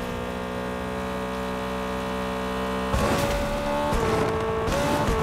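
A car engine in a vehicle combat video game drones as a steady tonal hum, then swells into a louder, rougher roar partway through and keeps revving with shifting pitch, with no voices.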